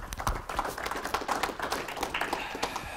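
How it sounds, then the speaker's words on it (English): A small audience at an aerial applicators' safety meeting claps steadily for a few seconds, the applause light and uneven with individual claps audible. "Let's give David a round of applause"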